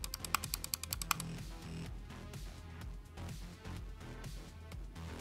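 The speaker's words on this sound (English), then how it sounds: "Listen to this mouse click." A computer mouse at a gaming PC setup clicks rapidly, about ten crisp, evenly spaced clicks in the first second, before steady background music takes over.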